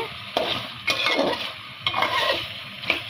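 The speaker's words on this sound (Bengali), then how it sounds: "আর একটু কষুক, আর আম্মু এটাকে আরেকটু কষাবে।" A chickpea curry is sautéed in a pan: a soft continuous sizzle is broken by about four distinct scraping stirring strokes, spaced roughly a second apart, close and moderately loud.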